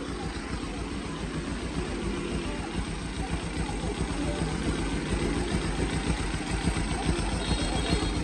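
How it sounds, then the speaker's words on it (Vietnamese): Kawasaki Z 2017 ABS motorcycle engine idling close by, a loud steady low throb with even rapid pulsing and no change in pace throughout. "Cho anh em nghe máy lại bao êm luôn."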